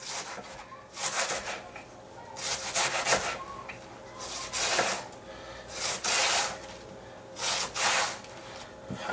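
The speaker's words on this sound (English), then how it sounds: "what I'm doing is I'm sawing down and coming back" A serrated knife saws back and forth through food on a cutting board, cutting very thin slices, repeated rasping strokes in an uneven rhythm, close and fairly quiet.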